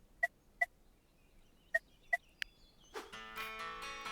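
A crow caws in a pixel-art survival game, with several short separate calls spaced out, followed by a burst of busier game sound effects.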